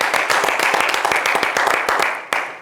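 Sustained applause from a live audience, dense clapping all the way through with one sharp loud clap near the end.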